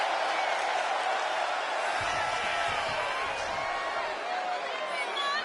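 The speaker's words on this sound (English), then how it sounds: "I don't anticipate this Hershey crowd to sit down anytime soon. That's how excited they are for this matchup." Excited Hershey arena crowd in the WWE 2K25 wrestling game, a continuous roaring wash of cheering at steady loudness, with faint thumps partway through and no clear talk.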